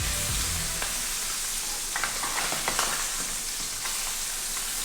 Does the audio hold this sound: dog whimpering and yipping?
no